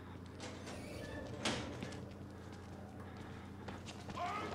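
Running footsteps in the horror video game Outlast, a quick series of soft thuds moving over a constant low rumbling ambience, with one louder knock partway through.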